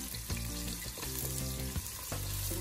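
Garlic and onion sautéing in a hot pan, a steady close sizzle and crackle of frying with a few soft stirring scrapes, no voices.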